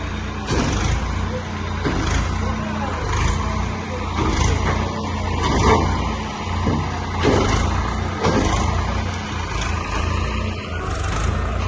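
A heavy Swaraj 855 tractor engine runs steadily throughout with a low rumble, with some mechanical clanking and knocks over it.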